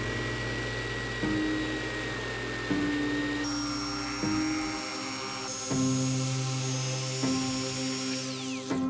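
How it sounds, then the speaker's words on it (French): A jigsaw runs in repeated bursts, its motor tone stepping up and down as it cuts a toilet-seat hole through wood, with short pauses between strokes. "Et ça, scie sauteuse."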